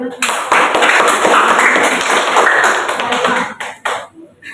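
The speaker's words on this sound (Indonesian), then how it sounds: "Tepuk tangan" Students in a secondary-school religion class clap together, close and fairly loud, a busy burst of hand claps that holds for a few seconds and then breaks into scattered final claps as it dies away.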